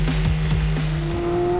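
Porsche flat-six sports car with a six-speed manual revving high, a loud sustained engine tone climbing through the gears with sharp shifts, close and alone with no talk.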